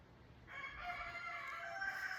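A rooster crows once, a long drawn-out call rising in after a brief quiet start, moderately distant with a faint outdoor hum beneath.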